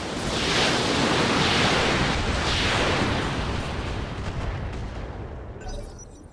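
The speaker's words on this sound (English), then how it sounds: "Firing all weapons." A BattleTech mech firing all its weapons at once: a loud, dense roar of blasts and rumbling explosions sustained for several seconds, then trailing off.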